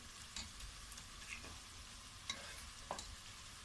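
Goat trotters fry in oil in a pot, giving a faint, continuous low sizzle broken by a few separate scraping stirs, each brief and moderately close, with no voices.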